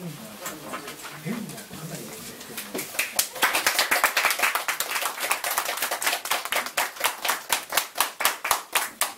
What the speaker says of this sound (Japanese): 再び拍手を持ってお迎えいただければと思います。